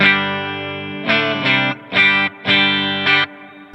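A Grote electric guitar bought from Temu plays clean tones, a sustained ringing chord followed by several rhythmic strummed chords, loud and close with no voices.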